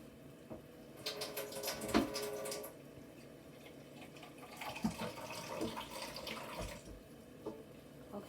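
Tap water runs into a pot for a crawfish seafood boil, a faint uneven splashing and trickling stream in short bursts, quiet and close.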